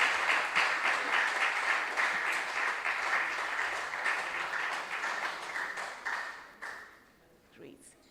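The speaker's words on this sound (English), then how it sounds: "Let's give them a round of applause again." Audience applause at the Ashanti Region qualifiers of a junior science and maths quiz competition, sustained steady clapping for about seven seconds before fading out, with a few scattered claps at the end.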